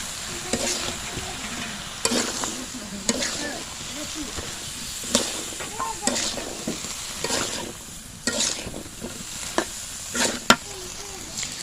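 Dried small shrimp with new potatoes and pointed gourd sauté in an oil-filled pan for a village-style curry. A continuous close sizzle is broken by regular spatula scrapes every second or two, with a voice briefly audible underneath.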